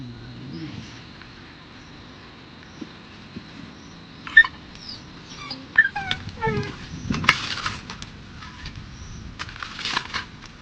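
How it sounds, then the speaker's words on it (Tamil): A dog cries and whimpers in an outdoor spot where a calf is being buried, giving thin high whines and yelps that build into a cluster of sharp, anguished cries. "பக்கத்தில் உட்கார்ந்திருந்த நாய் கன்றுக்குட்டியை பள்ளத்தில் வைத்ததும் பதறி கதறி ஓவென்று அழுது துடித்தது."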